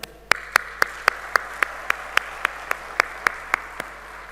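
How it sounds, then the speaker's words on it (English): Sharp single claps ring out at a steady, even pace, about fourteen in four seconds, at a corporate gathering led by an executive chairperson. Each strike stands alone over a quiet room, and no voices are heard. "A big round of applause for this entire team."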